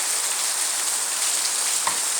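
A downpour drums continuously over Vejalka village in Botad district's Ranpur taluka, a thick uniform wash of raindrops close by, with one brief brighter splash near the end and no talk.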